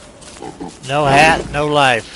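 A pig in the video game Don't Starve makes two short, loud grunts, with a brief voice speaking just before them.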